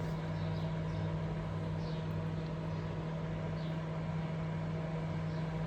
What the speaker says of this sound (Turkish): İçeride buz çözme işlemi başlıyor.